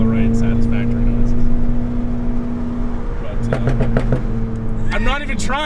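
Stage 2 tuned 2015 Volkswagen GTI on throttle lift-off, a steady droning engine and exhaust note heard from inside the car, then a quick burst of pops and crackles near the end, with people talking throughout.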